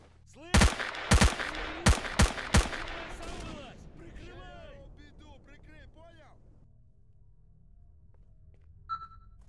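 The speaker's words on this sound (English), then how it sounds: "I can't tell if I'm shooting badly or if this gun's just really inaccurate." A gun fires in S.T.A.L.K.E.R. Shadow of Chernobyl as five loud, sharp shots at uneven intervals, each followed by ringing echoes and chirping tails that fade over several seconds, with a faint electronic blip near the end.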